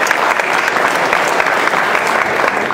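A crowd applauds a barista competition contestant, steady loud clapping from many hands filling the whole stretch with no pause.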